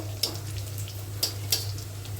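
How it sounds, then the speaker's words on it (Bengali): Cinnamon, cardamom and bay leaves fry with onions in hot oil, a steady soft sizzle close by, with a few sharp clicks of a utensil against the pan. "এখানে আস্ত কিছু শুকনো মশলা দিয়ে দিলাম, দারুচিনি, এলাচ আর তেজপাতা। এটাও পেঁয়াজের সাথে কিছুক্ষণ ভাজবো।"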